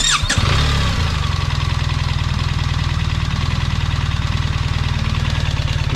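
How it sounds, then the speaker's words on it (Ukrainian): A BMW R1300GS motorcycle starts with a quick crank, then its engine catches and settles into a loud, steady, rhythmic idle that throbs evenly and close by, with no speech. "Тепер, щоб завестися, треба тримати переднє гальмо. Заводимось."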